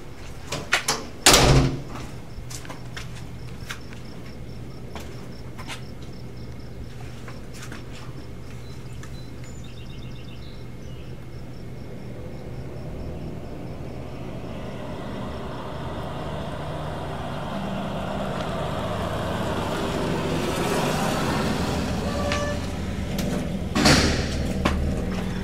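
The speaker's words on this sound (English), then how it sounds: "there are two thick, heavy metal doors now in between me and Graham" Heavy metal jail doors closing, a loud clanging slam early on, then a long low mechanical rumble and a second softer clank near the end, with no voices.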